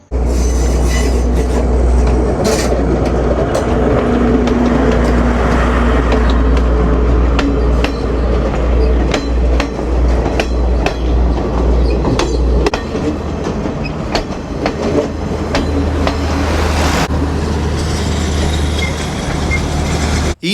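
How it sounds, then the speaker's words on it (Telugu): An old train rumbles past up close as it crosses Nine Arch Bridge in Sri Lanka, its wheels clacking rhythmically over the rails with brief squeals, loud and steady before easing slightly toward the end. "పాతకాలపు ట్రైను అది ఈ బ్రిడ్జ్ పైన వెళ్తుంది"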